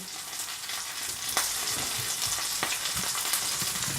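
A pork loin sears in a hot pan with a continuous bright sizzle, punctuated by a few sharp crackles and pops; no one speaks.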